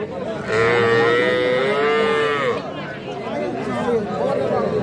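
A five-month-old bull calf gives one long, loud moo at a busy cattle market, over a steady murmur of people chattering, followed by more faint lowing and voices.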